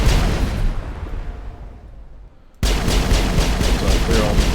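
Enemy gunfire in a video game: a dense, loud crackling barrage that fades, drops briefly near-silent, then returns abruptly as rapid, rhythmic bursts of automatic fire.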